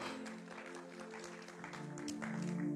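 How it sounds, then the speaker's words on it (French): A wedding congregation claps and cheers for the sisters at a religious ceremony. The sustained applause carries over steady music or singing and swells a little toward the end. "Est-ce qu'on peut acclamer pour nos sœurs là?"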